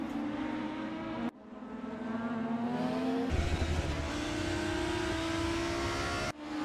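Volvo touring cars racing in a front-wheel-drive Super Touring video game at Zhuhai, engines droning loudly and steadily with gear-shift breaks and rising revs, heard close with no talk.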